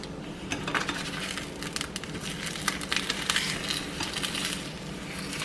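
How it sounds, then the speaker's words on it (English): Fried egg flipped in a pan on a home stove, with scraping and metallic clatter of a utensil against the pan over a steady sizzle, close and moderately loud, no talking. "Now it's about time to flip my egg and put it on top of the toast."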